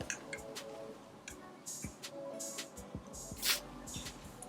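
Quiet hissing bursts of wig melting spray with scattered small clicks and taps, no voices, a louder spritz near the end.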